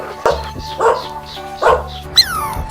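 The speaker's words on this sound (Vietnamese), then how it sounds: "Con chó." A dog barks four times at a steady, spaced rhythm, close and loud, the last bark sharper and higher, as a natural animal sound effect.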